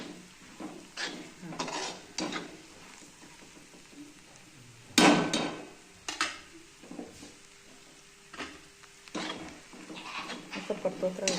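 Peanuts and chillies roasting in a pan over a slow gas flame, stirred with a utensil that scrapes and clatters in irregular bursts, one loud knock midway, close and moderately loud; no voice is heard.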